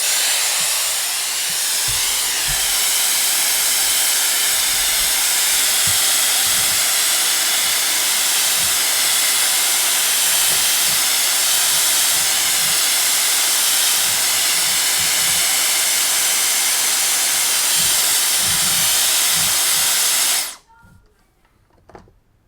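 A Dyson Airwrap hair styler runs on high heat at full power with a loud, steady blowing hiss for about twenty seconds, then cuts off abruptly, leaving quiet room sound.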